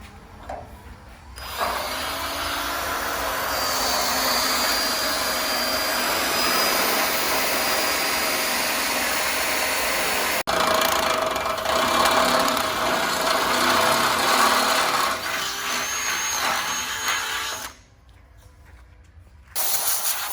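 A drill bores out mounting holes on the rear section of a 1969 Ford F100 truck, a loud continuous whirring grind running for about sixteen seconds with a brief break midway, then stopping abruptly.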